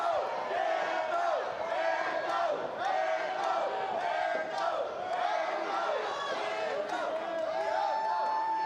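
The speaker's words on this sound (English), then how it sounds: "Yeah, we can hear the cheering section right behind us over here." Loud crowd cheering and shouting from a nearby cheering section at a Fury 113 MMA prelim fight, a continuous roar of voices with whoops and yells rising and falling throughout.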